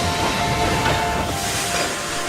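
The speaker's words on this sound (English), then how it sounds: "Thomas to do a quick test run over the tracks." A model engine making a test run over toy train tracks, a steady rolling rumble with hiss and faint clicking, loud and continuous throughout with no talking.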